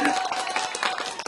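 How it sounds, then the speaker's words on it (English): An audience applauding speakers at a business talk event, a short dense burst of clapping and crowd noise at steady loudness with no pause. "let's do the applause again"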